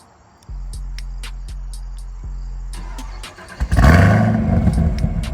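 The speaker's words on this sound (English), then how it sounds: "let's give y'all a quick little exhaust start so y'all can hear what the exhaust sound like" Stock exhaust of a Chevrolet Camaro ZL1 1LE firing up: a few rhythmic ticks and a low hum, then the engine catches with a loud, deep roar that settles into a strong, rumbling idle.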